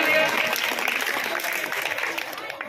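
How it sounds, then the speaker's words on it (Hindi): An audience applauds at an outdoor dance program, a continuous spread of clapping from a crowd at moderate distance with a voice talking over it. "बहुत जोरदार तालियां।"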